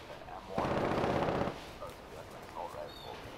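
A burst of semi-automatic gunfire in the online shooter Cuisine Royale rattles for about a second in one dense, loud volley, followed by quieter in-game ambience.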